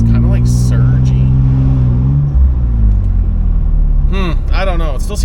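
The engine of a 2003 Nissan Pathfinder, surging and running unevenly after a valve cover job, revs up close by with a rising, wavering drone. Someone talks briefly near the end.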